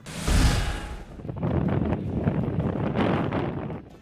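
Strong wind with intermittent rain in Ilocos Norte buffeting the microphone in heavy gusts, a loud rumbling roar that surges, eases briefly, then blows hard again.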